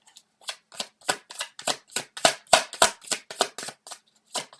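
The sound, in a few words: tarot cards being shuffled and drawn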